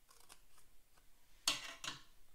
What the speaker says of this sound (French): On prend ses ciseaux